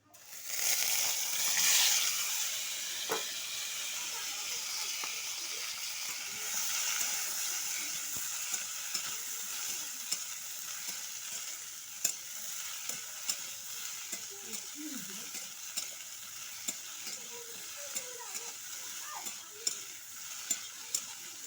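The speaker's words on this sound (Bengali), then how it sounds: "ভালো করে একটু নেড়ে নিতে হবে ভেজে নিতে হবে" Chopped cashew-curry ingredients fry and sizzle in a mustard-seed, cumin and chilli tempering, with a steady hiss throughout and scattered scraping taps of a spoon stirring the pan; no voices.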